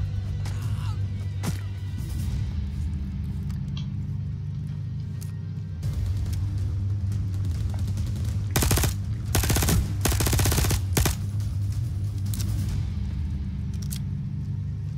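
Enemy gunfire in Overkill's The Walking Dead game: bursts of automatic shots crackle in short clusters over a low rumbling game soundscape, with the heaviest volleys packed into the middle stretch.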